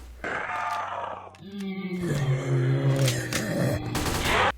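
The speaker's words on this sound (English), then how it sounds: "Here's the reload animation for the AK-47." AK-47 reload sequence in the Roblox game Project Lazarus: a short run of mechanical clicks and metallic clacks over a few seconds, close and fairly loud, with a low game ambience beneath.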